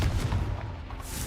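A Confringo spell explosion in Hogwarts Legacy lands as a deep, rumbling blast, a dense low-heavy boom that fills the whole moment and lingers without any talking.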